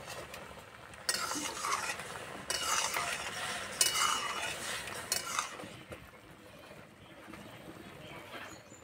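Pasta boiling in water in a pot is stirred with a strainer, giving bursts of scraping and watery churning over a bubbling hiss that fade toward the end, with no talk.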